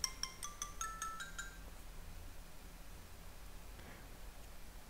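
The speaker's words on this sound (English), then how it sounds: "Oh, my phone is ringing." A mobile phone ringtone plays a quick repeating electronic melody for about a second and a half, then stops, leaving quiet background hiss.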